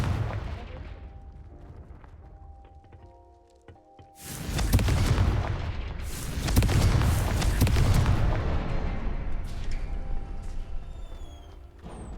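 The Confringo blasting spell in the video game Hogwarts Legacy sets off a heavy booming explosion midway, followed by a long rumbling, crackling roar with further bursts, after a quieter stretch of game ambience.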